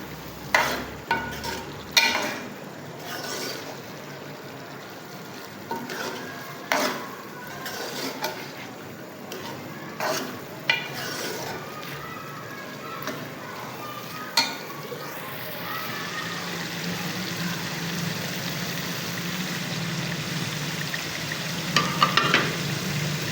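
Aloo qeema, minced meat with potatoes and yogurt, sizzling in a pan on a gas stove, with intermittent scraping stirs and clinks early on, then a louder steady fry as the heat is raised.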